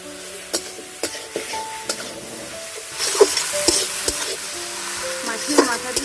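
A spoon stirs hilsa fish curry in a pan after sugar and a flour paste go in, with gentle sizzling and repeated scraping strokes over soft background music.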